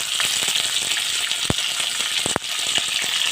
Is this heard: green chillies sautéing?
yes